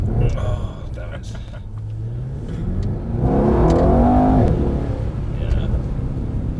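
Mercedes-AMG E63 engine on a race track, a steady low rumble that swells into a louder rev around the middle before easing off under braking, close and continuous.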